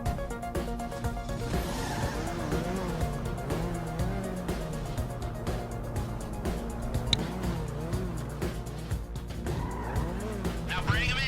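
A car in GTA Online, during a Diamond Casino heist, accelerates off with a continuous revving engine and repeated tire squeals, loud and steady over the whole stretch.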